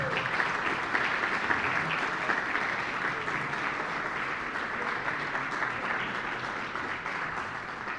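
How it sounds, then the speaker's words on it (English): Sustained, dense applause from an audience for the mayor at a civic event, an even wash of many hands clapping steadily throughout with no talk over it. "Can we give her one more round of applause?"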